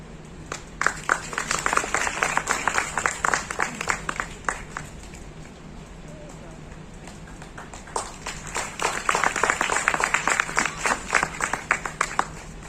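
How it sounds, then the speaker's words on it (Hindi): Scattered audience clapping at an award ceremony in Nagpur, with bursts of claps that fade to a lull midway and then swell again, moderately loud in a reverberant hall. "एक बार जोरदार तालियां हमारे इस बेहतरीन परिवार के लिए।"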